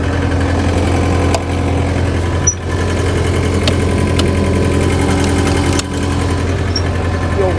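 A skid loader engine idles steadily and loudly close by, a low constant drone with a few faint clicks and knocks.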